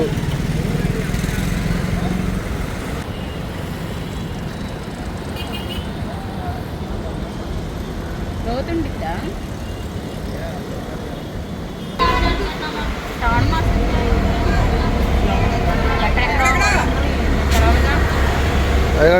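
Heavy road traffic rumbles near Prakasam Barrage in Vijayawada, a dense continuous roar of engines with passing vehicles and occasional horn toots, loud and close throughout.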